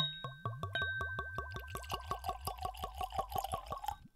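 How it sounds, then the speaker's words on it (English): Redbreast 12 Year Cask Strength whiskey glugs from a freshly opened bottle into a glass, a fast, even series of close bubbling gulps that rise in pitch as the glass fills. "Pour that liquid in the glass."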